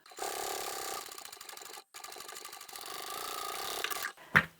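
A sewing machine stitches upholstery fabric for a patchwork bag, running in a steady close mechanical whir with rapid regular needle ticks, pausing briefly once, then ending with a sharp clunk.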